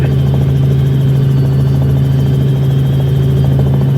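A small aircraft approaching to land at Bowman Field in Louisville, heard from inside as a loud, steady engine drone with a strong low hum that holds unchanged throughout.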